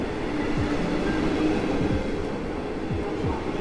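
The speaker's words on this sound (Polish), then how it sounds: "Pociąg Wiedenka do Skierniewic wjeżdża na tor trzeci przy peronie siódmym." A Wiedenka push-pull train pushed by a Traxx EU47 locomotive rolls into Warszawa Zachodnia station, a steady low rumble with rhythmic clickety-clack of wheels over rail joints, close and continuous.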